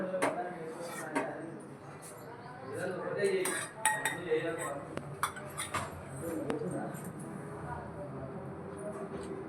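A spoon clinks and scrapes against a dish as curd is spooned in, a series of close, sharp metallic taps scattered over a busy kitchen background.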